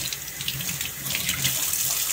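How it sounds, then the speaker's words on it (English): Sea urchin roe rinsed under a cold running tap, a steady close splash of water into the sink that runs without pause. "pretty much just rinse it under cold water"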